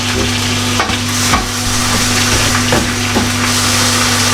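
Food sizzles steadily in a pan as it fries in water instead of oil, with a constant bubbling hiss, punctuated by a few soft scraping stirs and a low steady hum underneath.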